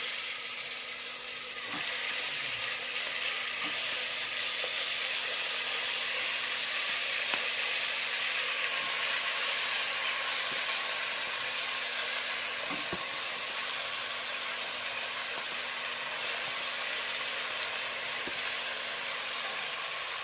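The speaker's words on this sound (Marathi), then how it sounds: "तर आपण पाहू शकता, कुकरमध्ये या ठिकाणी चिकन ॲड होते." Steady sizzling of chicken frying in a pressure cooker, a constant hiss with a few soft clinks of stirring scattered throughout.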